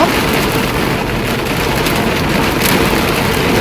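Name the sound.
heavy rain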